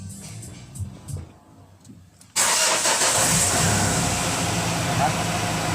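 A Mitsubishi Pajero Sport's engine cranks and catches after an oil change, jumping abruptly from quiet background sounds into a loud, steady idle up close.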